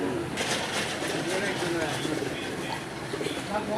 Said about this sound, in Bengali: আমরা এখানে আরেক জোড়া কবুতর দেখতে পাচ্ছি, আর এটা হচ্ছে আমাদের সেই পুরান জাতীয় দেশি গোল্লা কবুতর